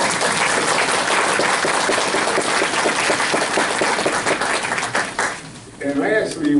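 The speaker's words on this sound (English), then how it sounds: "I think the audience ought to give themselves an applause for that." Sustained audience applause fills a city council meeting, dense clapping holding steady before thinning near the end as a voice and whistle-like tones rise over it.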